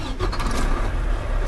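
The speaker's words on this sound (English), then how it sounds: "start truck" A truck engine starting during an in-cab inspection, a loud, steady rumble filling the whole moment with no pause.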